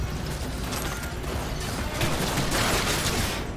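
Sustained gunfire in the video game Cyberpunk 2077, a dense, continuous roar of rapid shots and mechanical clatter, loud and close, with no talking.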